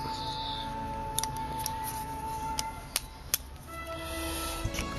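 A folding multi-tool being opened outdoors while bushcraft bread is baked, giving a few sharp metallic clicks and snaps over a steady background hum, close by with no talk.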